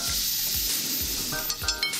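Vegetables, including zucchini, sizzle and fry in plenty of oil in a pan with tomato and juice added, a steady dense hiss with occasional light stirring clinks near the end.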